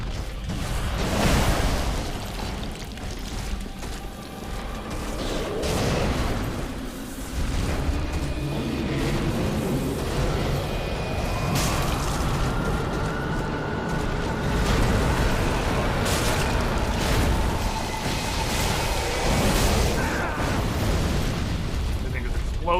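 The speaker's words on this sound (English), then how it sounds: "Everything is exploding." Repeated booming explosions and bursts in a Dark Souls 3 DLC fight, loud and dense throughout, with clashing in-game sounds and a voice talking over parts.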